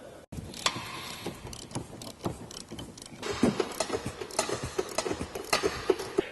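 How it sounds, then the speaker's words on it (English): Ratchet with an 18mm socket on a 3-inch extension backing off the nuts of factory front tow hooks on a Jeep JK, giving close, quiet mechanical clicking and clattering bursts spread irregularly through the clip. "now we're going to take an 18mm socket on a 3-inch extension and remove the nuts that hold the factory tow hooks in place"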